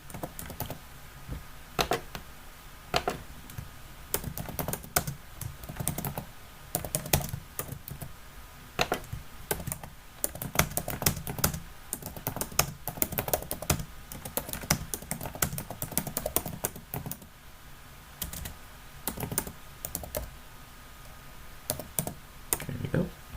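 Someone types on a computer keyboard in irregular bursts of clicky keystrokes, with short pauses between flurries, close and fairly quiet, with no voices.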